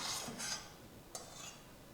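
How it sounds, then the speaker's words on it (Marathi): A spoon mixing masala stuffing with a little oil in a bowl for stuffed tomatoes gives a few soft scraping strokes, quiet and close, with a sharper clink partway through. "तेल घालून याला मिसळून घेऊ"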